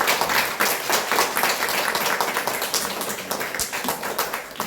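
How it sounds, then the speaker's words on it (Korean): A church congregation at a Sunday service applauds after a plaque is presented, giving a burst of lively, dense clapping that gradually thins and softens toward the end. "우리 힘차게 우리 박수 쳐주시기 바랍니다"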